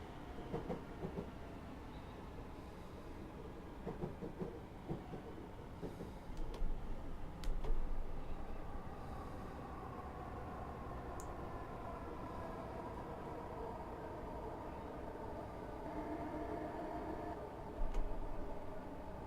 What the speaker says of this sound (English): I'm just going to cut the power to the train now, and we're going to start step 1 brake application.